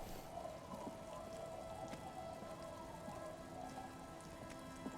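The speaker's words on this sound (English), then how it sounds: "It's getting late, and it's raining." Steady rain pours in the video game Disco Elysium, a dense, even hiss lasting throughout at moderate level, with scattered drops ticking through it and no voices.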